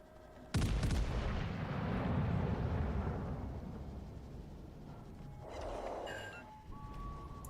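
Naval gun salvo in World of Warships: Legends: one sharp, heavy boom hits hard, then rolls into a long, deep rumble that slowly fades, followed by a softer second swell of blasts later on, with no talking.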